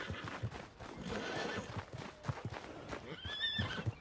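A horse in the video game Red Dead Redemption 2 whinnies and snorts while hooves clop on the ground, fairly faint, with game music or ambience underneath.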